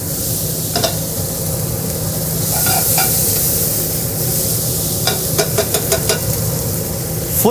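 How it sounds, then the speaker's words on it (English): Flank steak sears in a hot pan with a loud, steady sizzle and hiss, broken by a few sharp clinks and scrapes of a utensil against the pan. "I need a good sear on the steak right now."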